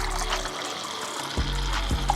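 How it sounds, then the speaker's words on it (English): Water pours steadily into a cup of ice and espresso for an iced Americano, a close, continuous trickling splash with a couple of soft knocks near the end. "And then I fill up this cup with a little bit of water."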